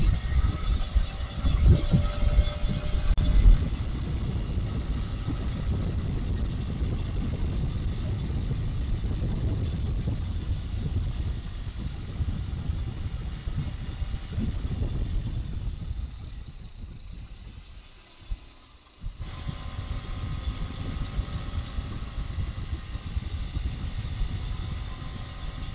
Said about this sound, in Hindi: ये 125 cc की बाइक है